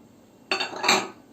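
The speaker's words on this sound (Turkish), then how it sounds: "Şimdi malzemelerimi karıştırıyorum." Onion, pepper and other ingredients for Urfa-style kazan kebab with eggplant being stirred together in a dish, a half-second burst of clattering and scraping that swells briefly before fading, with no talking.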